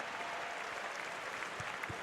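Audience applause in an arena during halftime of the Nebraska Class A state boys basketball championship, honoring young students and athletes: a steady, dense wash of clapping from a large crowd that continues throughout.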